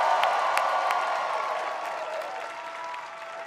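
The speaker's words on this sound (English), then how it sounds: "Can we all applaud our first-time voters?" Crowd applauding and cheering at a Kamala Harris campaign rally in Pittsburgh, Pennsylvania, steady dense clapping with a few whoops, gradually easing off.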